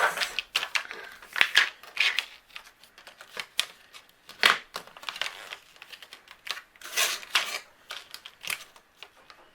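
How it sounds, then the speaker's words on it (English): Cardstock is folded over and creased by hand, giving a series of soft crinkles, rubs and crisp taps close by, with no voices. "Kind of fold it over, give it that first crease"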